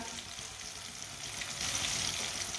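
Turmeric, red chilli, crushed chilli, whole cumin and coriander seeds frying in oil over a low flame, a steady close sizzle that swells slightly louder toward the end.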